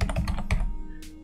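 A computer keyboard being typed on during an email server setup, with a quick run of close, crisp keystrokes followed by a single clack, alone and with no talking.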